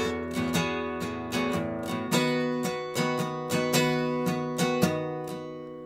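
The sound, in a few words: guitar chords from a song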